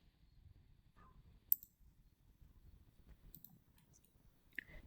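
Mouse left-clicks while drafting a top and skirt pattern in Marvelous Designer garment software: a few sparse, soft, close clicks spaced seconds apart over a very quiet background.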